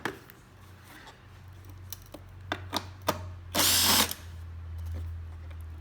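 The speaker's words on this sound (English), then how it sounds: "take off the 10mm bolt on the side cover" A power drill or driver removes a 10mm bolt from the side cover of a Honda EU7000i generator, one short whirring burst after several faint clicks and taps, close and moderately quiet.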